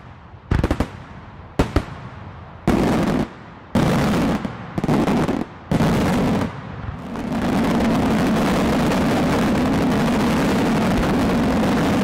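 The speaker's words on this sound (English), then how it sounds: "we've been launching fireworks the wrong way all this time" Fireworks launched at sunset in Thailand: a run of loud, sharp bursts and pops in quick succession, then a sustained roaring whoosh as rockets fire continuously.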